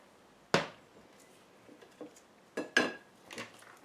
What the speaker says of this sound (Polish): i zamykam garnek